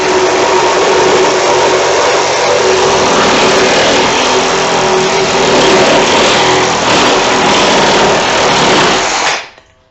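A Ridgid Megamax power tool fitted with a new DeWalt blade runs at a loud, steady high-pitched whine for about nine seconds, then cuts off abruptly.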